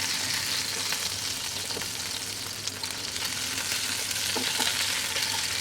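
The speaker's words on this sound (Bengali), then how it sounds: "আমি এভাবে বাদবাকি মাছ ভেজে নেব" Pabda fish pieces sizzle steadily in hot oil in a pan, a continuous close crackling hiss with small spits and pops and no talking.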